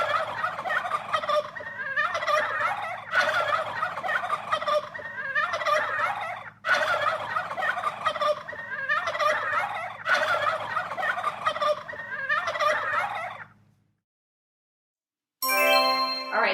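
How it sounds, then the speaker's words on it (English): Turkeys gobble as a sound effect, repeated loud gobbling bursts in a steady rhythm for about thirteen seconds, then silence and a short jingling chime. "All right, so that is turkeys. Those are turkeys."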